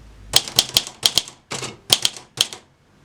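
A typewriter struck fast rather than hard, a close, loud burst of sharp mechanical key clacks in quick clusters with brief pauses, heard alone.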